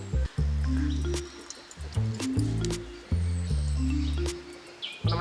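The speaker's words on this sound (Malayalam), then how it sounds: "അപ്പോൾ നമ്മളിനി തുളസി നീര് ഒന്ന് പിഴിഞ്ഞെടുക്കുകയാണ്." Tulsi (holy basil) paste squeezed by hand through a cotton cloth to press out its juice, giving wet squelching squishes and drips in repeated bursts, close and fairly loud.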